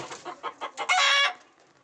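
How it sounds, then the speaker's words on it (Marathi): Native village chickens hatched in a home incubator, a string of short close clucks building into a longer loud squawk, then trailing off, with no talk. "या आहेत आपल्या होम इन्क्युबेटरद्वारे तयार केलेल्या गावरान कोंबड्या।"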